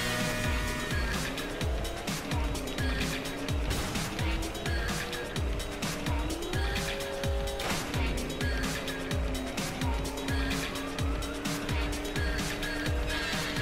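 A toy race car in the Table Top Racing video game drives with a steady, buzzing engine whine that climbs and shifts pitch. Tire squeals and skids sound over a constant backing track.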